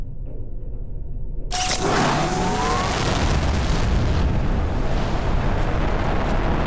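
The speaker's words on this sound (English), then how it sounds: "Go ahead and fire the uranium rocket while I'm out here." A uranium rocket launches in Planet Crafter with a sudden loud blast that swells into a sustained roaring rumble, close and steady, with no talking.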